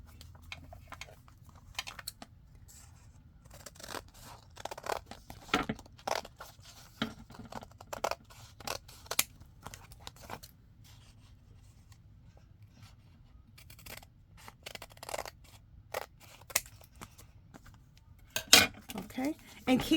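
Scissors snip through paper while junk journal library pockets are made, a scattering of quiet, irregular cuts and rustles spread over a long stretch with faint handling noise.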